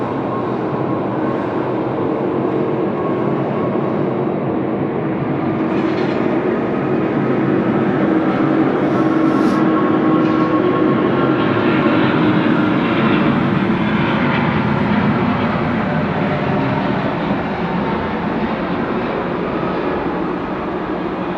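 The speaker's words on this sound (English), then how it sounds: "the Qantas 737 freighter in the background there" A Qantas Boeing 737 freighter at Sydney Airport: a loud, steady jet engine roar at close to middle distance, swelling slightly in the middle and holding as a continuous broadband rumble.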